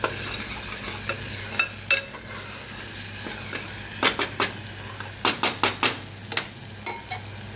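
A ground chili, coriander and cumin spice paste fries in hot oil under a constant sizzle, with a spoon scraping and clacking against the pan in quick irregular bursts.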